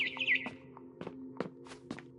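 A barn swallow chirps outside a window at night, a quick run of bright, high twittering notes at the start, then quieter scattered ticks and faint taps over a low steady hum.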